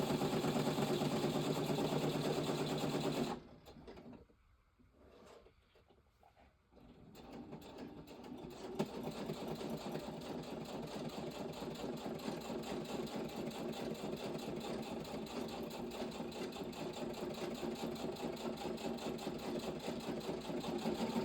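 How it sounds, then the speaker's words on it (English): Sewing machine stitching fabric in a steady, continuous mechanical whir, with a brief pause early on before running on evenly at close range; no talking. "Now I'm going to sew this up before we get stuff everywhere."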